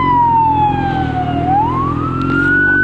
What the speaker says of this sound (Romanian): Stai că vine salvarea.